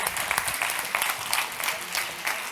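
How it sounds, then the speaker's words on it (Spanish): An audience at an employment congress closing session in Spain claps steadily for a few seconds, a moderate, even patter of many hands in a hall with no voices over it. "Un aplauso para él."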